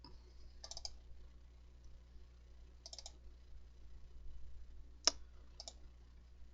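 Mouse clicks while editing in Photoshop: a few soft, quiet click clusters spaced over several seconds, with one sharper, brighter click near the end, against a faint room hum.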